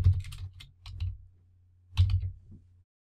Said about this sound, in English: But I'm just going to type it out.